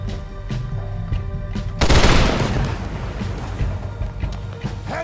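Gunfire in Red Dead Redemption, a sudden loud burst of rapid shots and a booming blast that hits near the middle and then rings out over steady background battle noise.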